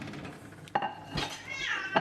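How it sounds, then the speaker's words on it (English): Cats fight indoors in a kitchen setting, giving short yowls and hisses that come in bursts over a few seconds, with faint clinks of dishes and cutlery nearby. "Cat battle."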